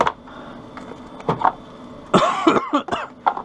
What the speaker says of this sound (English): I got this cough I just can't shake